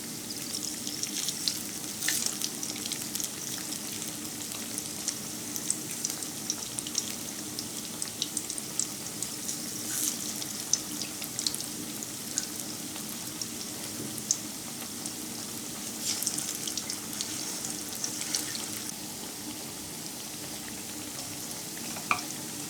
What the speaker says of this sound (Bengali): এখন আমি চপগুলো ভেজে নেব।